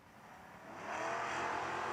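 A Camaro drag racing car launches at a footbrake challenge drag strip, its engine note rising sharply into a loud accelerating roar that builds over two seconds and stays strong.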